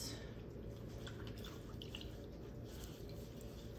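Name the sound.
splint material submerged in lukewarm water, dripping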